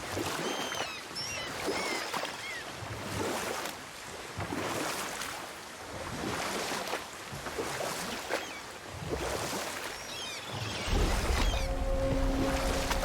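Oars pull a boat across water in God of War, with steady rhythmic strokes and splashes over a soft wash of waves and wind, and no talking.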